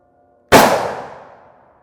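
A pistol fires a single Gold Dot round into a soft armor panel. The shot is loud, with a sharp crack and a ringing decay that fades over about a second, and no one speaks.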